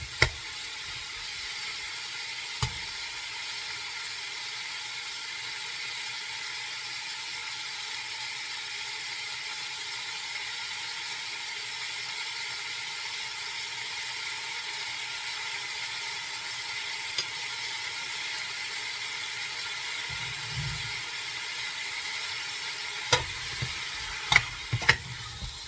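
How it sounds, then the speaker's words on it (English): Ground pork browning in a pan, a faint, steady sizzle running continuously with a few isolated clicks and brief spatula scrapes near the start and end, no talking. "So we're going to want to brown this. We'll just start with just the pork by itself."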